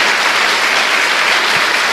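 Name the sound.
applause in church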